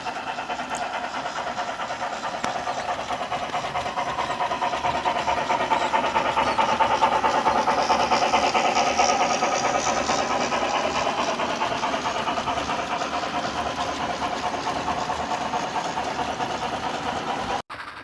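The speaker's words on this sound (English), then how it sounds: "Now we'll catch eastbound ore rolling through non-stop on the main under yard limit" Eastbound iron ore train on the Missabe Northern main near the Duluth ore docks, rolling through non-stop: a steady, broad rumble and rail roar holding at an even level for the whole stretch with no talk.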